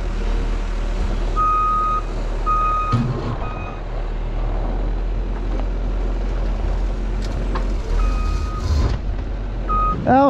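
A skid loader reverses on a farm, its backup alarm sounding a steady series of short, evenly spaced beeps over a constant low engine rumble, with clanks and knocks of work nearby.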